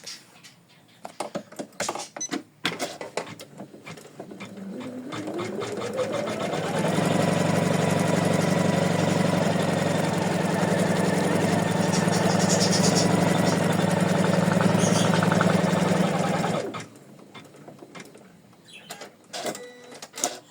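Embroidery machine stitching a quilted in-the-hoop heart design, fabric layered on top: a steady loud motorized whirring that ramps up, runs evenly for about ten seconds, then stops, with small clicks before and after.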